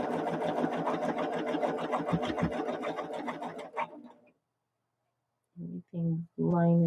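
A sewing machine runs fast and steadily while stitching a quilt block, a close rhythmic whir that stops abruptly, followed by a few short bursts of speech.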